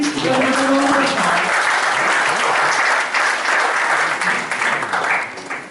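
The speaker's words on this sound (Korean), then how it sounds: "여러분 시장님께 다시 한번 박수 부탁드립니다." Audience applause for the mayor at the opening ceremony of CFK Valley Korea in Gumi, loud and sustained dense clapping for nearly six seconds, with a brief voice audible at the start.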